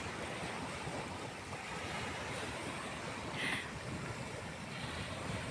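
Steady outdoor wind rushing across the microphone, a continuous broadband roar with a slight gust near the end, no voices.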